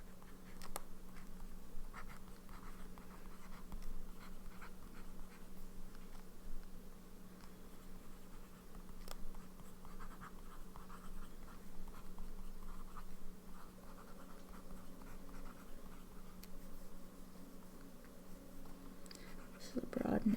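A broad-nib pen laden with limited-edition 2022 Ferris Wheel Press ink scratches softly across paper in faint, intermittent strokes, set against a steady low hum and a quiet voice.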